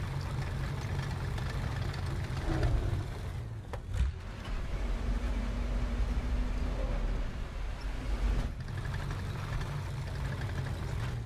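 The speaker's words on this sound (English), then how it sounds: "I think I can hear his engine." Enemy vehicle engine in War Thunder, a continuous low rumble like a heavy engine running nearby, steady for the whole stretch with brief dips in the sound.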